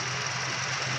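A 2015 Toyota Fortuner engine idles after an overhaul, a steady, close, smooth mechanical hum with no talking.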